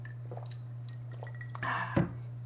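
A quick sip or gulp of water taken during a card game deck discussion, with faint wet drips and small liquid sounds leading into one louder swallow near the end, quiet and close against a steady low hum.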